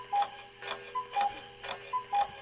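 A clock ticks steadily in a music track, evenly spaced loud ticks about twice per second, each with a short bright tonal ping, alone without talk.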